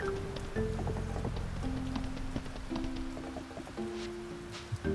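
Steady rainfall in the Fields of Mistria farming game, a soft continuous patter that runs through the whole stretch while gentle musical tones play over it, with no talking.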